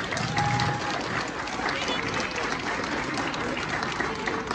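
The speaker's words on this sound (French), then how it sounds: "je vais vous demander de l'applaudir" An audience at a public New Year address on a square in Lyon applauds steadily, a dense sustained patter of many hands, fairly loud and continuous, with some voices mixed in.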